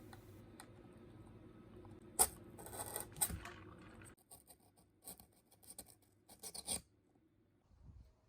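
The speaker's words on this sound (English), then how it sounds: "I'm just going to use this awl to poke holes through the board where the screws go" An awl pokes holes through a wooden board for the mounting screws of a mosaic sign, giving short rasping, scraping bursts and a few sharp clicks close up, against a quiet room.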